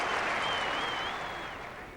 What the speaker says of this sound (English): And gets a tremendous round of applause for it.